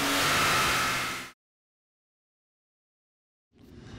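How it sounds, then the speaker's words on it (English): A Datsun 280Z's inline six roaring at high revs on a chassis dyno, loud and close, then cutting off abruptly into a couple of seconds of silence before a fainter engine sound returns. "We'll strap our 280Z to the dyno and see what horsepower the inline six still has."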